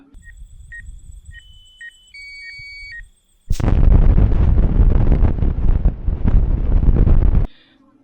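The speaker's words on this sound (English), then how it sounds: "As I shot the gun, as you'll see here in this clip" Electronic camera beeps give way to a sudden overwhelming blast from a CVA Paramount muzzleloader rifle fired right beside the camera. A roaring, distorted wash follows for several seconds as the microphone is blown out, then cuts off abruptly.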